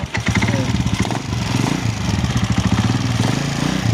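A loud Honda TMX 155 motorcycle engine with an excessively noisy fault runs nearby, a steady throbbing rumble with a rough, uneven rattle throughout.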